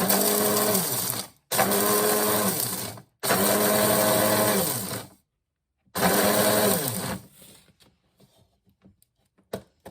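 A loud whirring grinder crushes oyster shells for poultry feed in three long bursts with brief pauses, then a fourth burst, followed by scattered small clicks and taps.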